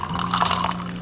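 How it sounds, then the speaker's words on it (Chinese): Cooled boiled water is poured into a cup holding ice cubes, giving a close, continuous splashing trickle with bright watery gurgles for about a second. "杯子里加入冰块，加入1/3凉白开"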